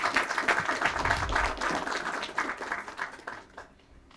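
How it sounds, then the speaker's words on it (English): A crowd applauds at the close of a panel session on solar energy for agriculture and industry, with a thick wash of clapping that holds steady and then tapers off and fades in the last second. "A big round of applause, please."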